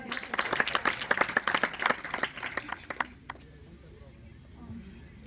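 A loud burst of audience applause with dense clapping for about three seconds at an annual event program, then it stops abruptly and leaves a quiet room.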